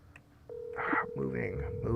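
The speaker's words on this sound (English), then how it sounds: "I'm gonna call Jay on his phone" In a Five Nights at Freddy's game, a phone is dialed with a short run of keypad tones, followed by a steady ringing tone while a voice talks over it.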